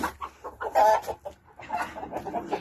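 Several chickens cluck nearby in short, uneven bursts, with one louder squawk early on, and no talking.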